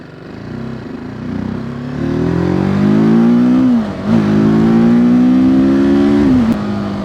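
TVS Apache RTR 310 motorcycle on the road with slipper clutch, its engine droning up in pitch under acceleration, a brief dip for a gear change, then another rising pull and a downshift blip, loud and close with wind noise.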